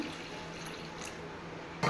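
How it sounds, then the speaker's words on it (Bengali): Water poured into a pan of frying young taro, a steady rushing splash that holds evenly before a louder, brighter burst at the very end. "এবার জল দিয়ে দেবো"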